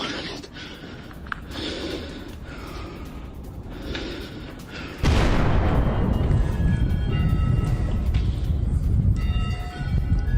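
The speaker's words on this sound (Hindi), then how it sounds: "कीव के डोमिशन कैथेड्रल पर गिरी मिसाइल" A missile strike hits the Dormition Cathedral in Kyiv. A sudden loud, sustained roaring blast breaks in midway through, after a stretch of lower background noise with voices.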